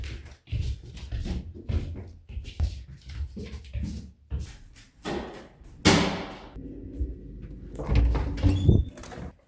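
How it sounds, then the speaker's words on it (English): A balcony door at home opened in a morning routine with dogs: a series of thumps, latch clicks and sliding knocks, close and irregular, with a louder rattle partway through. "I usually open the balcony door just so they can get some fresh air if they want."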